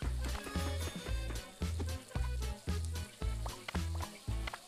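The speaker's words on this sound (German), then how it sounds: "Das Fleisch verbrennt." Meat frying in a pan, heard as steady sizzling with regular rhythmic thumping pulses underneath, moderately loud and close with no talk.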